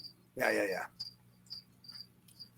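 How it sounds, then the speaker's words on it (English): Short, high cricket chirps repeat at a steady pace, faint and thin, with a brief loud burst of voice or noise early on. "I'm hearing the cricket chirp"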